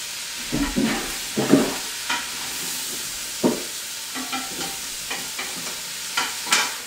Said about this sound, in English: We're just going to stir it up, get them nice and softened for about 5 to 7 minutes